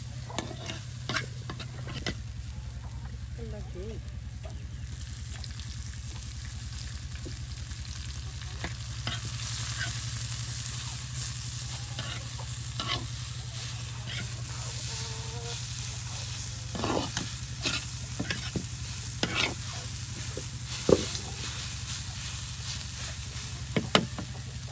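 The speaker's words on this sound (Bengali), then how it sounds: "একদম জর্জরা শাক ভাজা, একদম জর্জরা শাক খাই আমরা ময়মনসিংহা" Mixed leafy greens being dry-fried and stirred in a pan over a village fire in Mymensingh, a continuous close sizzle broken by scraping and clattering stirring strokes, with no voices.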